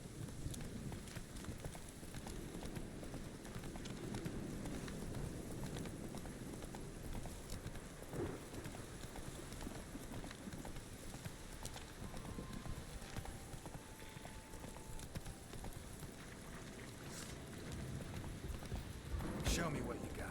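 Horse hooves gallop steadily in The Witcher 3 video game, a continuous rhythmic clatter under someone talking, with rain-like game ambience in the background.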